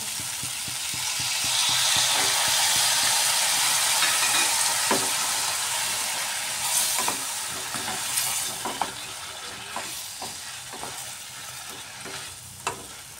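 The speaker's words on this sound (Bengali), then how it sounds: "এইভাবে ফুলকপি, আলু, টমেটো দইটা দিয়ে একটু সময় কষিয়ে নিতে হবে" Cauliflower, potato and tomato sauté with yogurt in a pan, a steady hiss of sizzling that fades slightly as a spoon stirs and scrapes the pan in repeated close clinks and knocks.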